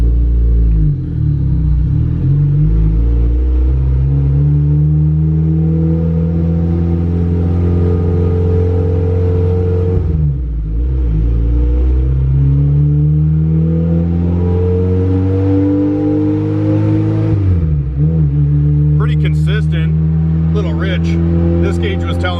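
A turbocharged Honda Del Sol with a stock D16 engine drives and accelerates, its loud, close engine note climbing in repeated revving pulls, dropping at gear changes near 2, 10 and 17 seconds, with brief turbo hiss at the end.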